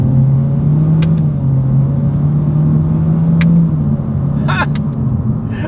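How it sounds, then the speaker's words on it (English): A 2026 Honda Civic with a CVT accelerating in manual paddle-shift mode, a steady droning engine hum rising slowly from inside the cabin while a person talks over it. "let's see how quickly we can get our new 2026 Honda Civic here up to speed"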